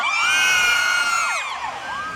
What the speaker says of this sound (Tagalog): Pwede ko ba marinigan yung malakas na hiyawan?